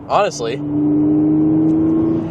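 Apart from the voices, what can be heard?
Audi B8.5 S5 engine with AWE Touring exhaust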